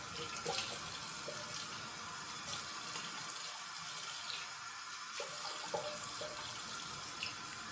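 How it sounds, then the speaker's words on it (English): A tap runs steadily into a sink to rinse up after a shave, a continuous close splashing gush with small bumps of hands moving through the stream, no voices. "the shave was done. I'm gonna rinse up"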